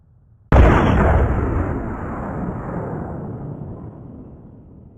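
A large bomb detonates in a video game with one sudden, loud blast after a brief quiet moment, then a long rumbling roar that slowly fades across several seconds.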